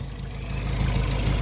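A cold car engine idles steadily, a low, even rumble close by that swells slightly over a second and a half, with no talk and no revving.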